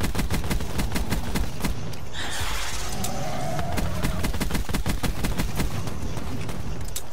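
Call of Duty Blackout gunfire in a graveyard fight: rapid, loud repeated shots with a steady rhythm, plus a shotgun blast and a whooshing burst midway, up close.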